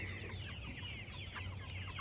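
Several pastured poultry chickens cluck and murmur softly in a group, with a steady low hum in the background.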